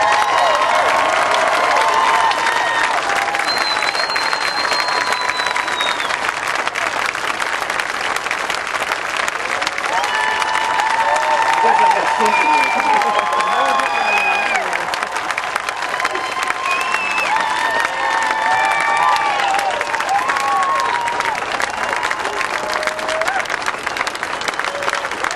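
Sustained loud audience applause with cheering and scattered shouts fills a hall at the Kennedy Space Center after an announcement on the homes of the retired space shuttle orbiters, steady and dense throughout.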